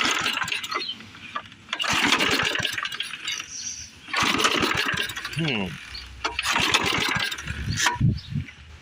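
An old push lawn mower engine is cranked repeatedly after fresh fuel and starting fluid, giving sputtering bursts of pull-cord effort and rough catching that die out. Someone talks over the attempts.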